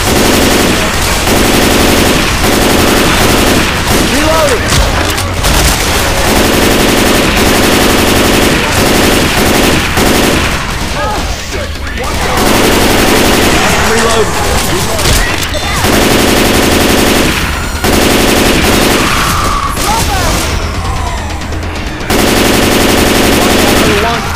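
Loud, sustained automatic gunfire from the Left 4 Dead 2 video game (modded survival mode) rattles in long rapid bursts with a few brief lulls, nearly continuous throughout.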